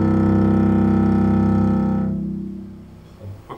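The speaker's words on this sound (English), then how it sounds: "it's the brr type sound of, in this case, a deep double bass tone" A deep, sustained double bass tone with a grainy, buzzing texture, loud and close, that holds steady and then fades over about two seconds into near silence.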